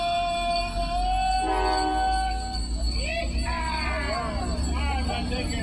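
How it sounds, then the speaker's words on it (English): A Christmas train sound-effect alert plays on a live stream. It mixes train noise and a horn with tonal, chiming jingle layers over a rumbling low bed, loud and continuous, with a voice partly over it. "All aboard the Christmas train."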